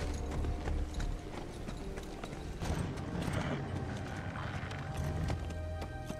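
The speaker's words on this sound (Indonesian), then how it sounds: "Belum cukup jauh Korpi menunggang kudanya" Horse hooves clip-clop at a steady walking rhythm as a rider travels, moderately close against a busy outdoor background.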